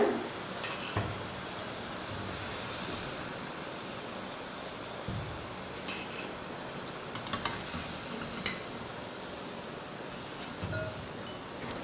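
Potato snacks deep frying in hot oil, a steady, even sizzling hiss that fills the whole stretch, with a few faint clicks and taps on top and no talking.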